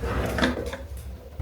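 A drawer slides open with a soft, continuous wooden scrape and a light bump at the end, close by and quiet, in a home bedroom setting.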